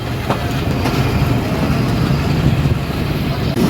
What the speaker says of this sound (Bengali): নকশিকাথা কমিটার ফরিদপুর আউট হচ্ছে